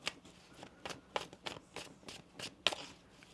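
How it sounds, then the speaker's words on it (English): Tarot cards being shuffled by hand, a series of quiet crisp riffling bursts in an irregular rhythm, close and soft with no talking. "One more shuffle here."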